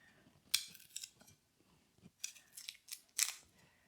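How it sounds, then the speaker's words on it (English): A big kitchen knife works on garlic cloves, giving sharp, scissor-like crisp snips and scrapes at about seven or eight irregular moments, close and fairly quiet with near-silent gaps between them. "This is quite a big knife for peeling the garlic"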